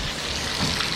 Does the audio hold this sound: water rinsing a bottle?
yes